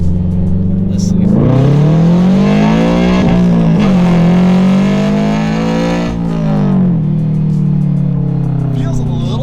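A car pulls hard through first gear in a loud, close engine sweep that climbs in pitch, eases briefly, then rises again before settling, holding steady and strong for about nine seconds.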